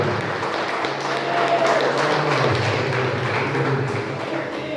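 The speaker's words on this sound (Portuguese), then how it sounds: "Aplauda o nome do Senhor." Church congregation applauding during a worship conference, a steady, dense wash of clapping from many hands that holds for several seconds, loud and close.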